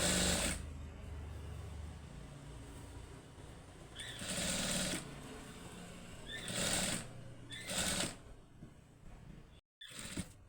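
A domestic sewing machine stitches piping onto a blouse without lining, running in several bursts of steady whirring with short pauses between them, fairly close and with no talk.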